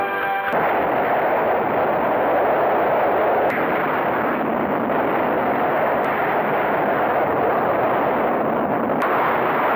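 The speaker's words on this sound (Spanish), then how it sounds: "La explosión es exitosa" A loud, sustained roaring explosion from the disaster film The Towering Inferno: a deep, dense rumble that fills the whole stretch, broken by a few sharper bursts, with no talk.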